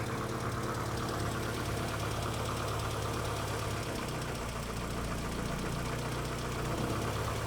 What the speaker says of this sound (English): It's running a bit high on idle because we've got that thing undone.